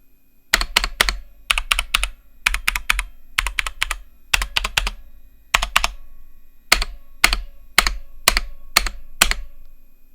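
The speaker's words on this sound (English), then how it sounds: "when you're doing anything on the keyboard a little more actively, it's not only physically, but also sound-wise very annoying" A budget MageGee computer keyboard is typed on in quick bursts of loud, clacky, hollow keystrokes, grouped in short runs with brief pauses between, close and with no talking.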